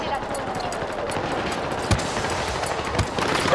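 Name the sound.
weapon gunfire in the video game Battlefield 6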